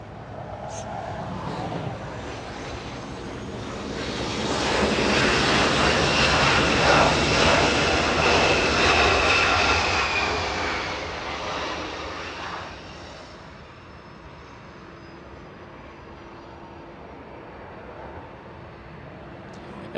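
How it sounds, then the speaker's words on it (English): A SkyWest CRJ-200 regional jet arriving at Los Angeles International Airport, its engine roar rising to a loud peak near the middle and then fading to a softer whine, with faint talk early on. "SkyWest 5513 flying in from Sacramento, California. 1 hour of flight time for the little CRJ 200"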